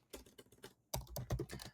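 Computer keyboard keys tapped quickly while entering text into a search box, a burst of close, crisp clicks, a short pause, then a denser, louder run of typing.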